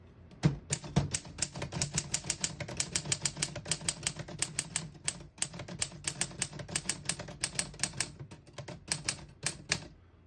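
Rapid keystrokes on a 1952 Underwood Leader portable typewriter, a dense run of sharp mechanical clacks at a steady typing pace, close and clear with no voices.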